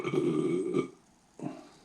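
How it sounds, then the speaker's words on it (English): A single deep, drawn-out belch, loud and close, followed after a short pause by a brief second gulp-like burp. "And some deep belches."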